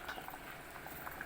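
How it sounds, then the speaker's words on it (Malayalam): Chicken curry simmers in a pot, giving a faint, soft bubbling with small irregular pops and burbles close by, quiet and continuous with no voices. "ചിക്കൻ കറി നല്ലോണം തിളച്ചുകൊണ്ടിരിക്കുന്നത്"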